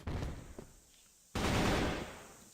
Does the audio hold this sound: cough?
no